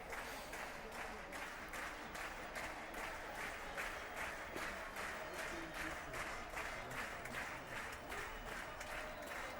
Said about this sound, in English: the French supporters are cheering already, and celebrations are going on the French bench